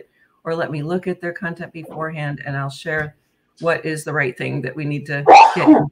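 Near the end, a sharp, loud sneeze bursts out once, indoors during a cultural tourism workshop, right after a stretch of steady talking.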